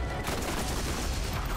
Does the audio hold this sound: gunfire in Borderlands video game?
yes